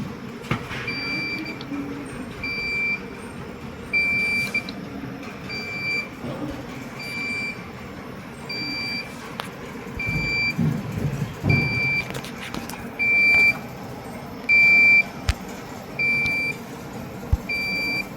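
A UPS inverter, running on battery after its AC supply is cut, gives short, high electronic beeps at a steady interval over faint background hum and noise.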